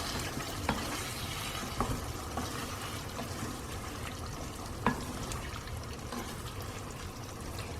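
Sweet and sour pumpkin sabji with tamarind is stirred in a pan, a soft, continuous sizzle broken by a few light scraping knocks of the spoon, quiet and close with no voices.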